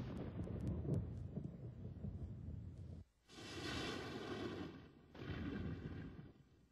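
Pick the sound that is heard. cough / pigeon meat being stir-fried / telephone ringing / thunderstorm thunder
thunderstorm thunder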